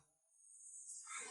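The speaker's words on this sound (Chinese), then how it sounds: "听到的都是这种叽叽喳喳的虫叫啊" Insects chirp in a primeval forest in the Guizhou mountains: a faint, thin, high-pitched drone that swells toward the end, heard alone with no talk.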